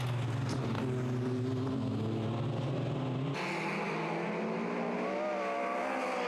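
TVR racing cars from the TVR Challenge thunder round Castle Combe on a damp circuit, engines loud and close with droning revs that rise and shift as the pack passes, ending in a sustained higher-pitched roar.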